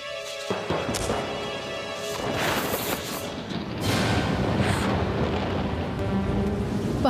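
Storm rain pours steadily while thunder cracks and rumbles through it, loud and close, the downpour growing heavier toward the end, with no talking.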